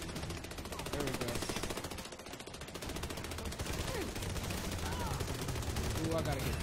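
Rapid automatic gunfire from the video game Army of Two: The Devil's Cartel rattles in fast, continuous bursts, loud and close, with a player's voice occasionally talking over the shooting.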